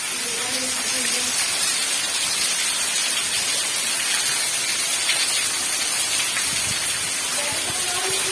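Heavy rain pours steadily in a village, a dense, even hiss that fills the whole stretch, with faint voices buried beneath it.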